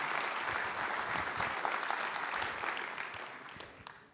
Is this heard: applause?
yes